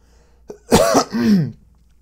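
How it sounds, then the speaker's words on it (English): A brief cough followed by a rough throat-clearing sound, close and fairly loud, with quiet surroundings. "I don't know why I'm coughing all of a sudden"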